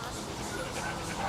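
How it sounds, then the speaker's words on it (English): Stray dogs at an animal shelter yipping and whimpering in short bursts, heard beneath a person talking over a noisy background. "trainers of Taichung Animal Shelter teach stray dogs to take commands and interact with people"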